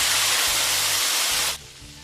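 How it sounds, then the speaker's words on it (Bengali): Cut potatoes and taro frying in oil with salt and turmeric make a loud, dense hissing sizzle that suddenly drops to a quieter bubbling near the end, with a low rumble underneath. "এরপর কেটে রাখা আলু আর কচুগুলোকে একটু নুন হলুদ দিয়ে ভেজে নিচ্ছি।"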